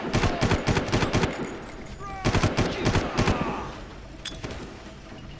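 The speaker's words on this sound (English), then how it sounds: "Oh, he threw a grenade." Bursts of gunfire and a blast from a thrown grenade in the video game Far Cry, loud and close, coming in two clusters of rapid shots with a quieter stretch between, with some talk mixed in.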